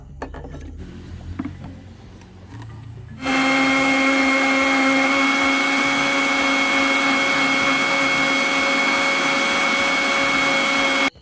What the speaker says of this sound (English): Add about 250 ml of water and run the blender.